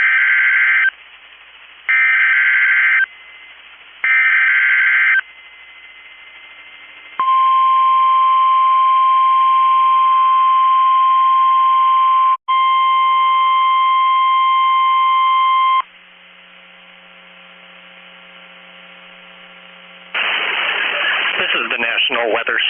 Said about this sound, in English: The signal you just heard was our weekly test of the NOAA Weather Radio warning alarm system.